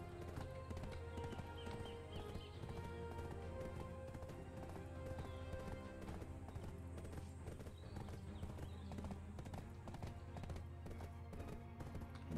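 A horse ridden in the online game Black Desert clops along in a steady, even hoof rhythm, quiet and continuous beneath background game music.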